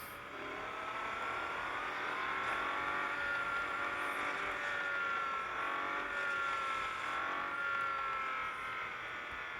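A Koenigsegg Agera RS in a racing video game holds a steady, high, buzzing engine whine that rises and falls slightly in pitch as it revs under load, continuous and fairly quiet, with no talk.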